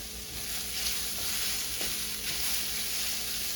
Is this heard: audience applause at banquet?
no